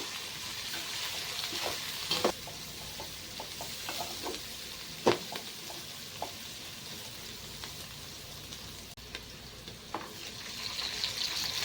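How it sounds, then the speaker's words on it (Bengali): Beans and carrots frying in a pan for fried rice give a steady soft sizzle, broken by sharp scraping stirs and clinks of a spatula, with no talking. "বিন আর গাজর ভাজা হয়ে গেছে"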